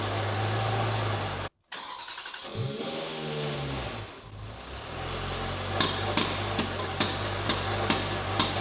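A broken Ferrari being restored cranks over and starts, its engine catching and settling into a steady idle with a few blips of revving, close and loud with no one speaking.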